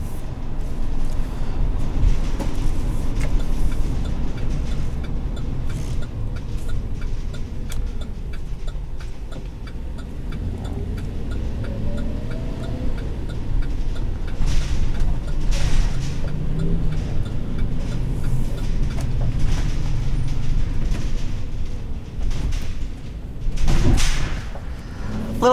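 Inside the cab of a 2020 GMC Savana 3500HD cutaway with a 6.0L Vortec V8, a steady low engine and road rumble drones on while driving, with small rattles and clicks from the cabin over bumps.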